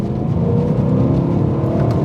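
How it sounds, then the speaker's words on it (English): A BMW M3 V8 pulls hard in third gear from about 2500 rpm, a loud, smooth engine drone climbing steadily in pitch over two seconds. "if I put it in 3rd gear at 2500 revs and put my foot down"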